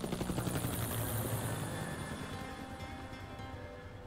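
Helicopter in the Resident Evil 4 Remake video game, a loud, steady rotor chop with a dense engine roar that thins slightly toward the end.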